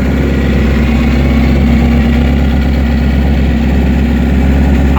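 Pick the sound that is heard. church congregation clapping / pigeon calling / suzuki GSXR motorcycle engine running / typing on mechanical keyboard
suzuki GSXR motorcycle engine running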